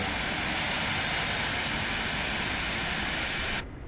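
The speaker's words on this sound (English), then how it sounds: "Alright, both engines are started." Twin jet engines of a Phenom 300 in Microsoft Flight Simulator roar as a loud, steady broadband rush of turbine noise, constant and close, then cut off abruptly near the end.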